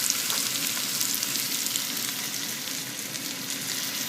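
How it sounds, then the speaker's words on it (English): Black-eyed peas sizzle and fry steadily in a hot pan as water is poured in to deglaze it, a continuous close crackling hiss with no talking. "So you can hear that sizzling a little bit, kind of deglazes the pan as we're putting the water in."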